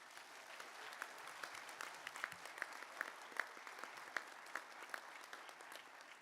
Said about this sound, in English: Show them your appreciation with a big round of applause.